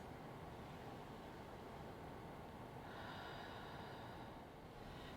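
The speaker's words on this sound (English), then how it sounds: "I want you to just take 3 nice, deep, cleansing breaths" Slow, deep breaths during a gentle chair yoga session, a steady close airy rush that continues throughout and swells slightly partway through, with no talking.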